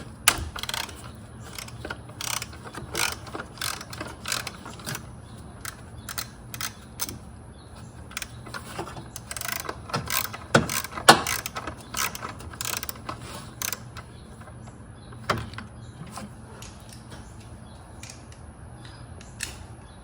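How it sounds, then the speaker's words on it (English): A 10mm socket ratchet loosens a bolt on a Honda Pilot-family engine during a PCV valve change, with irregular bursts of sharp, close metallic clicks and quieter scraping between them. "I just have a 10mm socket here. I'm gonna start with this right here."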